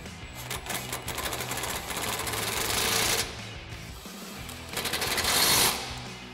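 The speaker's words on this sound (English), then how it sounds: "tighten those down with our 17mm socket and extension on our impact and a 15mm wrench" A pneumatic impact wrench with a 17mm socket and extension tightens bolts on a Ford Bronco nudge bar: a loud, rapid buzzing rattle runs for about three seconds, pauses, then returns in a shorter burst.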